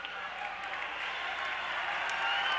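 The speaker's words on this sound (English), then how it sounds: "we see this crowd just going nuts over there" A high-school boys basketball crowd roars steadily through a timeout, a dense wash of cheering and clapping that swells slightly toward the end, with indistinct voices mixed in.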